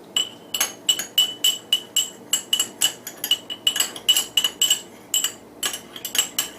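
A utensil stirs a benzyl benzoate lotion mixture in a glass, producing a steady rhythm of bright clinks against the glass, about three per second, close and clear with no talking.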